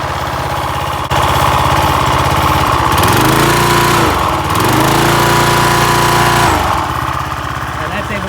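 A Craftsman pressure washer with a 190cc Briggs & Stratton engine runs loud and close. Its engine note climbs and falls twice as the throttle is moved by hand, and then it settles back toward idle.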